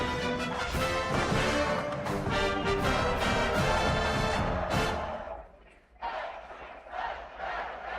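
Stadium crowd in the College Football 27 video game, Kentucky home fans roaring loudly and continuously, dipping briefly before swelling again amid a game commentator's voice.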